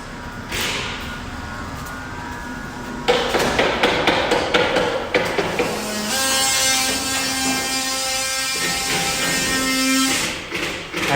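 Workers putting up wallboard at the bottom of kitchen walls hammer in a quick series of sharp, close knocks amid a steady background hiss and room noise, followed by a lingering ringing tone.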